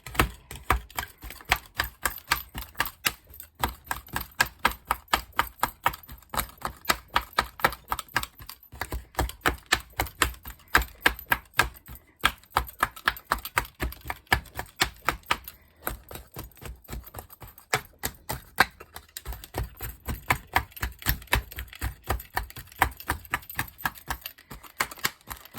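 Rapid, sharp chopping taps break up sticky Delft casting clay, a long run of crisp knocks in uneven bursts with short pauses, close and dry with no voices.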